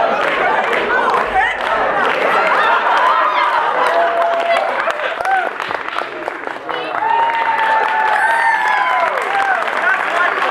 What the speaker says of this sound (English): Let's give a round of applause to Ray.